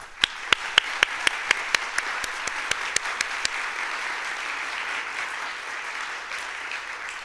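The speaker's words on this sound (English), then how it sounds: "Let's give them another round of applause" At a Hall of Fame inductee luncheon for Springfield Public Schools graduates, a few sharp, evenly spaced claps lead into a broader wash of applause that carries on steadily.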